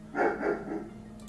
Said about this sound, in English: My dog barking at something.